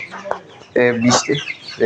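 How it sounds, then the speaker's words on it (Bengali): Poultry chicks cluck nearby in short, uneven bursts, a few birds calling over one another at close range. "আমার পাঁচটা পোলট্রির বাচ্চা এগুনাকে ছেড়ে দিয়েছি"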